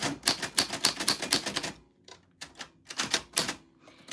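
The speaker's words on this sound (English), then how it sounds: "If I don't hit the typewriter like hard enough, I have to go backspace one" Rapid keystrokes on a manual typewriter, a dense run of crisp mechanical clacks for under two seconds, a brief pause, then another burst of strikes, close and clear with no talking.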